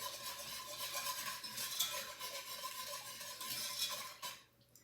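A spoon scrapes and swirls steadily through banana pudding mix thickening in a pot on the stove, a soft continuous stirring with faint sizzle, quiet and alone until it stops near the end.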